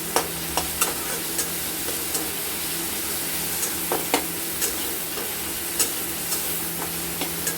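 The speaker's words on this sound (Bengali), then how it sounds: "লবণ দিয়ে আমরা পেঁয়াজটাকে একটু ভালো মতো করে ভাজা ভাজা করে নেব" Chopped onion and tomato frying with salt in a pan, a gentle continuous sizzle punctuated by sharp ticks of a spatula stirring, close and fairly quiet, no talking.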